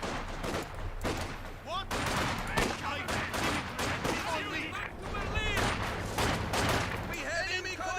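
A machine gun nest in Company of Heroes 2 rattles out loud, continuous bursts, mixed with heavier booms and scattered rifle fire. Voices shout through the shooting.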